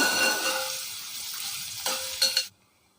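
Onions being sautéed and stirred in a pan for dum biryani, a steady close sizzle with a few louder scrapes of the stirring spoon near the end before it cuts off.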